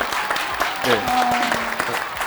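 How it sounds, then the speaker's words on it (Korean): Applause breaks out at a wine tasting after a sparkling wine bottle is opened, a short burst of clapping with a voice briefly speaking over it. "박수가 나네요."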